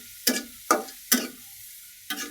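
Onions frying in a pan for a masoor dal with ash gourd: four sharp, evenly spaced bursts of stirring and sizzle, close and fairly loud, with quiet gaps between them.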